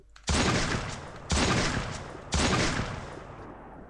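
Three heavy gunshot blasts in the Free Fire battle royale game, each ringing out loud and close with a long decaying tail, spaced roughly a second apart.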